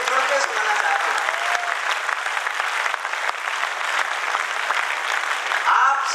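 A crowd at a humorous Hindi poetry gathering (kavi sammelan) in Jind gives loud, sustained applause, with voices calling out faintly above the clapping near the start and end.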